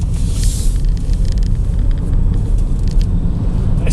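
Nissan Leaf electric car pulling away from a standstill, a steady low road rumble and cabin hum holding at an even level throughout, with no engine note rising and no talk.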